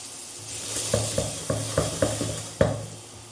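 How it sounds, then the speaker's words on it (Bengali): Onions frying in a pan for Bengali chicken kosha, a soft sizzle underneath repeated scraping strokes of a spatula stirring against the pan in a steady rhythm, close up, with no talking. "সুন্দরভাবে লাল লাল করে পেঁয়াজটাকে ফ্রাই করব"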